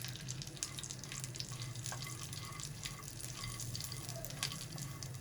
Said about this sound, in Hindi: इन तीनों चीज़ों को हम फ्राई कर लेंगे 1 मिनट